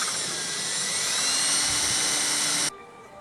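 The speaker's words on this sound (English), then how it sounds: "So the oscillating multi-tool did the trick" An oscillating multi-tool gives a loud, steady, high-pitched buzz while cutting, then cuts off abruptly, leaving a quiet hum.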